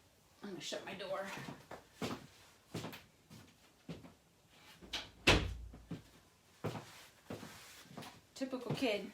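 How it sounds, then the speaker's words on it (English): A door being shut indoors, a sharp single thump midway through, amid scattered knocks and shuffling, with someone talking around it. "I'm going to shut my door."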